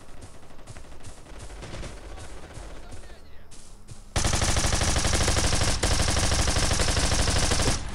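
Gunfire in the mobile shooter game Bullet Force, rapid automatic bursts firing through a box, first moderate under a player's voice, then turning into a sudden, loud, dense stream of shots.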